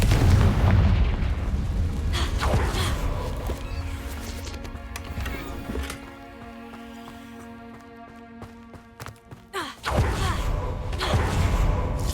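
Fiery Confringo blasting spell explosions from the video game Hogwarts Legacy on hard mode: several loud, booming bursts against sustained game music, with a quieter stretch before the blasts return.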